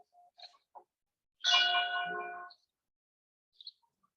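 A single faint stroke of a church bell, rung by the priest, rings out and fades within about a second amid otherwise quiet surroundings with scattered small sounds.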